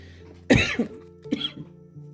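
Two coughs close by, a loud harsh one followed by a shorter second one, with quiet between them.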